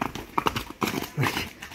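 Hooves of a medium-sized Kyrgyz horse clip-clop as it is led along, a quick, uneven series of close, hollow knocks with short gaps between steps.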